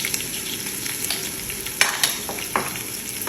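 Ginger and garlic sizzle in hot oil in a pan as a utensil stirs them, with a steady frying hiss and a few sharp scrapes and clinks up close, no one talking.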